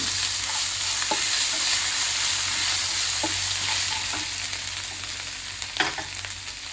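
Crushed ginger and green chillies fry in hot oil with a constant close sizzle, while a spoon stirring them adds a few short scrapes and clicks against the pan.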